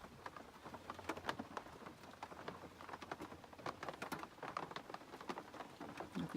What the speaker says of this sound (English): If you can hear the raindrops.